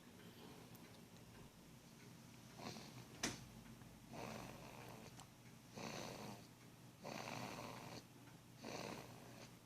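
An infant boy snores softly while asleep, with a handful of breathy rasping breaths repeating every second or two over a quiet background.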